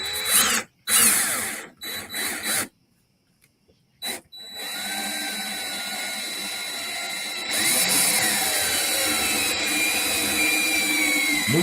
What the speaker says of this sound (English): Let me know if this drill gets too loud.